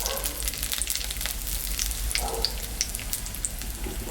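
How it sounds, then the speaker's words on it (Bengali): Dried chilli, cumin and bay leaf crackle in hot oil left over from frying fish, giving a steady close sizzle with scattered sharp pops. "এখানে শুকনো লঙ্কা আর জিরা আর তেজপাতা সম্বরা দিয়ে দিলাম।"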